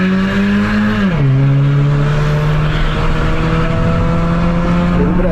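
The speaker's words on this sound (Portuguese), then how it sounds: "Esse ronco bem da hora aí com o difusor." Honda Civic fitted with an exhaust diffuser gives a loud, continuous exhaust drone while driving, its pitch dipping briefly and then holding steady at close range.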